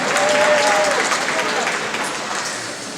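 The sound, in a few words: audience applause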